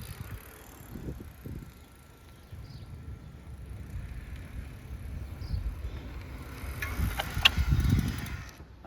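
A Ride1up LMTD V2 electric bike rolls along outdoors, giving a steady low road and tyre rumble with wind buffeting the microphone, growing a little louder toward the end, with no talking.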